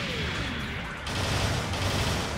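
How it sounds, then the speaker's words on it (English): Video game gunfire from a single-shot rifle, loud and dense, with shots and mechanical clatter blending into a continuous barrage and no clear single report. "it's a single shot rifle"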